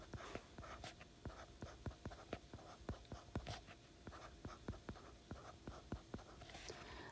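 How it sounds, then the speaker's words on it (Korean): A teacher writes notes by hand during a lesson: a quiet, steady series of quick scratchy strokes and taps, close by and without talk. "그래서 이거 선생님 밑에다 써볼게요."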